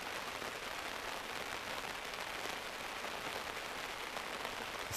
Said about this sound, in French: Je sais pas si on entend avec la GoPro, mais il pleut bien dehors.